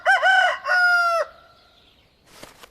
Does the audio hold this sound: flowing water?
no